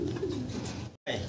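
Racer pigeons coo in a low, throaty murmur close by at a pigeon farm, continuous and steady, broken by a brief cut near the end.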